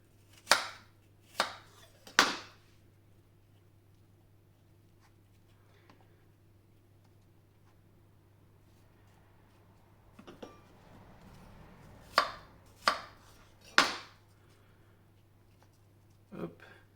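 Apples cut into large quarters with a knife for an Alsatian apple tart, giving a few sharp chops on a board in small clusters, close and clear over a steady low hum.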